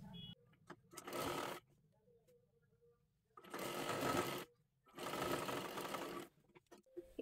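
A sewing machine stitching a salwar dress runs in three short bursts of rapid clatter, close and fairly quiet, separated by brief pauses of near silence.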